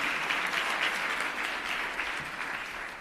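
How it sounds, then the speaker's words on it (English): Steady audience applause at a public forum on shelters for gender-based violence victims, a dense even patter of many hands that holds at a consistent level for a few seconds and eases slightly toward the end. "Let's give him a better round of applause."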